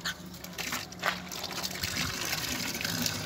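Water from a newly replaced faucet gushes and splashes close by in a steady rush after a few uneven spurts at the start, with no speech.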